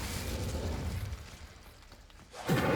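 Incendio fire spell cast in the video game Hogwarts Legacy: a whooshing burst that fades through the middle, then a sudden loud flare of fiery sound near the end.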